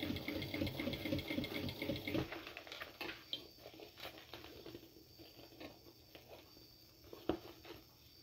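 A sewing machine stitches fabric for a small Pokémon-inspired backpack, its motor running in a steady, fast, whirring patter, louder at first and then softer and uneven, close by and alone.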